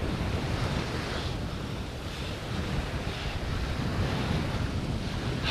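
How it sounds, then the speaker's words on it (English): Strong wind buffets the microphone by a bay where fish are being caught, a constant, loud, rumbling gusty roar with no speech. "Pretty windy today"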